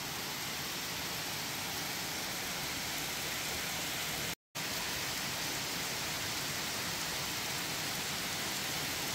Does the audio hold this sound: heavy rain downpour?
yes